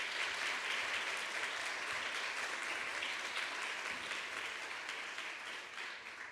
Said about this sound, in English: Let's give them one more round of applause before they leave.